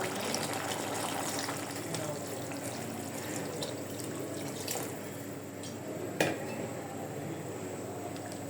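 Water is poured into a pan of curry during cooking, making a steady close gushing and sizzling wash that continues throughout with a faint clink near the end.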